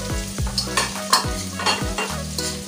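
Sliced sausages frying in a pan, stirred with a utensil in repeated scraping strokes over a steady close sizzle, with no voices.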